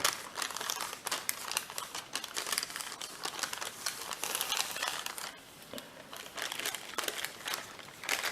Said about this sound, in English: the next one is going to be a valley fold, so just fold this up